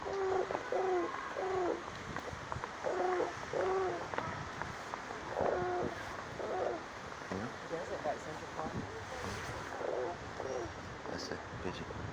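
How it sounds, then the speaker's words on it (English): Pigeons coo repeatedly in a garden with old trees and palms, soft rhythmic hooting phrases repeating steadily, moderately near, while someone talks over them and light outdoor ambience continues underneath. "That's a pigeon."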